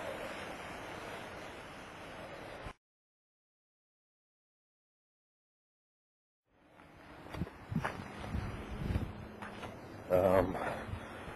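Wind buffets the microphone over rolling surf at Omaha Beach, cutting out into a few seconds of silence before gusts and waves return, louder and rougher.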